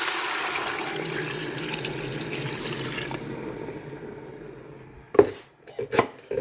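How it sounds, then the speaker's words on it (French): Water runs steadily into a saucepan of finely cut vegetables, a rushing pour that thins and fades out, followed by a few sharp knocks of utensils against the pan. "on va mettre les légumes qui ont été tous coupés en petits taillés dans notre casserole et on va mélanger. Et là, on couvre d'eau"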